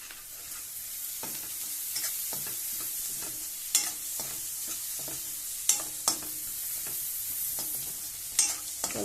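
Onions and minapa vadiyalu (urad dal fritters) fry with turmeric in a pan over a low flame, giving a steady close sizzle broken by sharp scraping clicks as a spoon stirs them every second or two.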